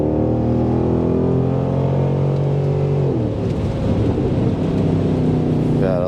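A Mercedes-AMG M156 V8 with a muffler delete revs hard after an intake manifold repair, a loud, deep multi-harmonic roar climbing and falling, with a rough rumbling stretch midway and a quick blip near the end.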